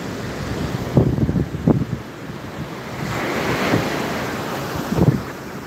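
Ocean waves wash onto Pantai Corner's white sand beach in Banda Aceh just after sunset, with steady surf and wind rushing over the microphone, broken by louder breaking swells near one, two and five seconds in.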